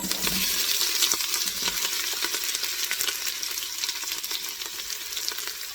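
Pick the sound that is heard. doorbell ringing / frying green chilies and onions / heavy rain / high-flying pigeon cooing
frying green chilies and onions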